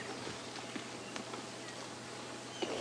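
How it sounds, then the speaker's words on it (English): Buffalo move around a parked safari vehicle at sunrise, their footsteps soft, scattered thuds and shuffles over a steady outdoor hiss, with a slightly louder step near the end. "You can hear their footsteps."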